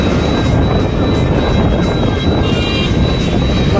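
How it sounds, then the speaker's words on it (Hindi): Steady, loud wind rush buffets the microphone while riding a motorbike on a hot day on the road from Dehradun toward Delhi, a continuous broadband roar with no pauses. "भाई भाई क्या गर्म हवा चल रही है यार,"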